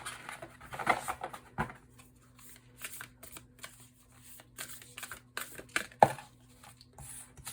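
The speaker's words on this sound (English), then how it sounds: "Some of the shuffling might be on camera, some of it might be off." Tarot cards shuffled by hand, with repeated riffling and flicking bursts, close and fairly quiet, continuing steadily with no talk.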